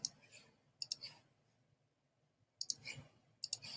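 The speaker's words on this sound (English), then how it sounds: "we'll click this one" A computer mouse clicking, with a few quick faint clicks near the start, a quiet pause, then another cluster of clicks, soft and close.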